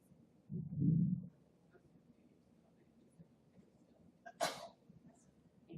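A single loud sneeze bursts out in a quiet room at the end of a health equity talk, followed a few seconds later by a short, breathy second burst, with faint room noise between.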